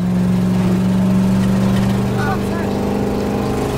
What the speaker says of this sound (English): That's the four barrels sucking the gas through as fast as it can be pumped.